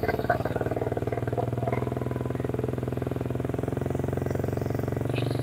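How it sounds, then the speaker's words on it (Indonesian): A Suzuki GSX-R150 motorcycle engine held at a steady idle to low rev, an even rapid pulsing thrum close by, with no clear rise in pitch. "Sekarang kita coba sedikit gas biar tahu suara dari"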